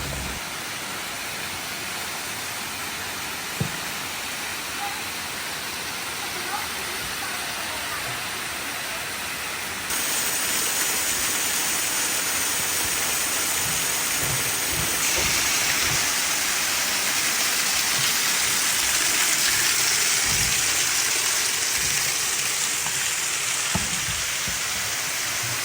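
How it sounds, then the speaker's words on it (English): Waterfalls along an irrigation ditch trail in Madeira make a constant rushing hiss of falling water, close and loud, swelling fuller partway through, with no voices. "As we hiked along this irrigation ditch, we noticed there was lots of waterfalls."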